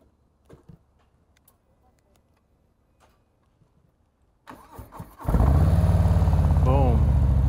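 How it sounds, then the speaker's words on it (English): After some quiet handling noises, a Harley-Davidson Low Rider S motorcycle engine cranks and roars to life, settling into a loud, steady idle close by. "Nice loud startup and engine."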